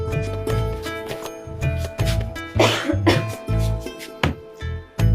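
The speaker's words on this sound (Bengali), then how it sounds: "সারা রাত ধরে কাশতে কাশতে একটু ঘুমাইতে পারে না" Someone with a cold from splashing about in a pond coughs over and over in harsh, close bursts, with throat-clearing rasps and short pauses between the fits.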